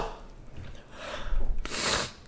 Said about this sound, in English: Feel a sneeze coming on.